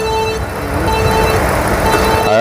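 A car engine revs loud and steady in drive with the brake held, tested for bad motor mounts; traffic and road noise mix in, and the roar rises briefly at the end.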